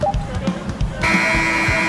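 A loud, sustained electronic buzzer from a basketball video game sounds at the end of play, cutting in abruptly after a second of busy game noise and holding steady, with a horn-like tone.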